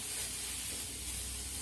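Mushrooms being sautéed in a pan for vegan sausage give off a steady, even sizzle and hiss that carries on throughout without a break.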